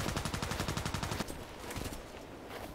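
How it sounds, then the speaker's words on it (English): Rapid video game gunfire, shots fired through stone, comes as a fast, steady string of loud bursts for about a second, then drops to scattered quieter impacts and rumble. "he's shooting through the stone"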